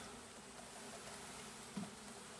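Honeybees buzzing in a low, continuous drone as they are dumped into the bottom of a new hive box on a farm, faint and steady throughout.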